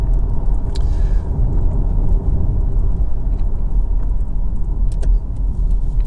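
A Lexus GS 450h 3.5 hybrid saloon travels over a rough, broken road surface, a steady loud rumble of road and tyre noise inside the cabin with a few faint clicks and light rattles.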